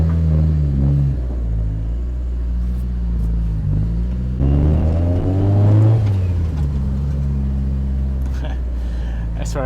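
A Mitsubishi Evo 8 drives on its freshly installed engine, with a steady, loud exhaust drone that swells into a stronger rev midway before settling back to an even cruise.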